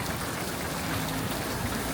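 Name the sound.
rain falling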